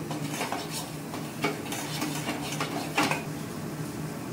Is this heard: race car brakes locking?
no